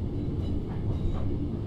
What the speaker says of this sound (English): Our train got to platform number 3 of 4X.